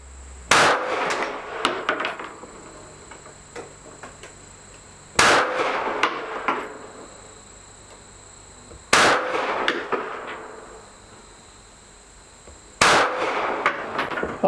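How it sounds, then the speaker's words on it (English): SigSauer P365XL pistol firing on a range: sharp, loud individual reports spaced several seconds apart, each followed by a ringing decay, with no talking. "Okay, there's 5 shots"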